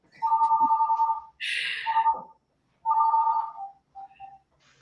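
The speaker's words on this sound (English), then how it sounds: "my phone's ringing" A telephone rings in two electronic trilling bursts separated by a brief pause, close and clear, with a short rustle between rings.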